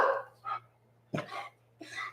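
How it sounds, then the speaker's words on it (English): A dog barks a few times indoors during a yoga class, close, sharp barks separated by short silences over a low steady hum. "Sorry, I don't normally have the dogs during class here."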